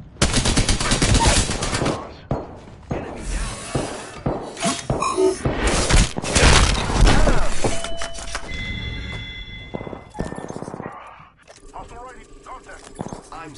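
Rapid automatic gunfire in Apex Legends, dense bursts of shots with shattering impacts and game effects, loud and close, mixed with voices talking over the action.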